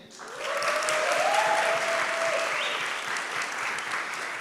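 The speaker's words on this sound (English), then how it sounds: "clap your hands again" An audience at a hackathon final presentation claps their hands in a full, continuous round of applause, swelling quickly and holding steady, with a faint whistle or voice riding over the crowd.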